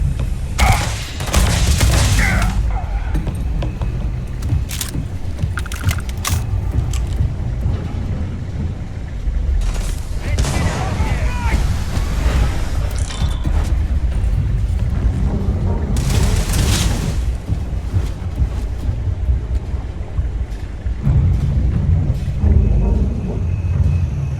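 Gunfire and explosions from Starfield combat, with bursts of shots and heavy booms landing in clusters over a constant rumbling bed, loud and close, with occasional voices shouting between the blasts.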